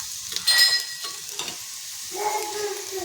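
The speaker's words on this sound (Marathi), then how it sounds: "साधारण असा तांबूस कलर येईपर्यंत आपण हे बदल परतत राहायचं" Chopped onion stirred and sautéed in a pan until reddish-brown, for a sweet bitter gourd dish: a steady close sizzle with scraping spatula strokes, loudest near the start, with no talking.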